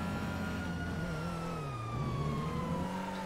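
A police car siren wails in a video game, its pitch sliding up and down continuously, loud and sustained with engine rumble beneath.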